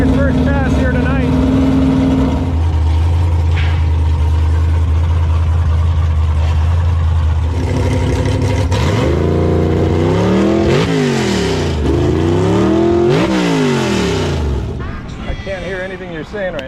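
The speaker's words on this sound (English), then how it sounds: "Greg's got a new blower, and he's gonna make his first pass here tonight." A COPO Camaro fitted with a new Magnuson supercharger makes a drag strip pass, its engine idling, then revving hard through rising and falling sweeps, loud and close, with people talking over it.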